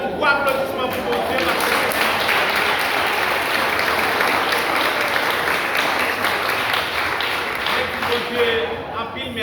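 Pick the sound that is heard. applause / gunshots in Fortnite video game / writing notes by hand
applause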